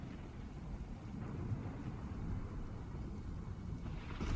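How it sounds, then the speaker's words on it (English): Steady rain with low rumbling thunder plays as a sound effect in a Call of Cthulhu tabletop game session, a continuous moderate wash with a deep rolling undertone and no voices. "that rain and thunder that you're hearing, it's not the sounds of Mother Nature"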